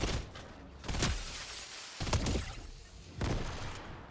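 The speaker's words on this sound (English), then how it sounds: "He threw grenades at me." Several grenade explosions in the Fortnite video game, OG Season 7, three broad bursts spaced about a second apart, fairly loud and close, with the noisy thuds trailing off between them and no talking.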